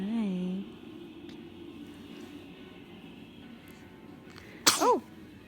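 A baby lets out a single sharp sneeze near the end, loud and close, after a short stretch of quiet room noise and an adult's voice at the start.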